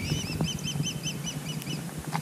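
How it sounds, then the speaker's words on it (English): Young eagles chirp from a nest in a tree by Charleston Lake, a quick series of thin, high, evenly spaced peeps over a steady outdoor hiss, with a few softer calls and rustles mixed in. "you can hear that chirping, we think it's baby eagles"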